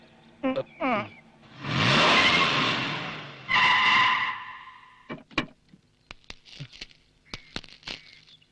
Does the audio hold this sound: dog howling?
no